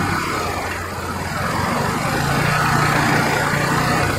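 A GY6 150cc scooter engine idles at minimum throttle, a close, steady, buzzing drone that holds an even pitch with a slight swell toward the end, heard alone.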